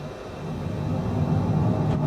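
Airplane engine spooling up to full power on the runway with brakes held in Microsoft Flight Simulator 2020, a steady low rumble that swells gradually louder and holds near, with no talk over it.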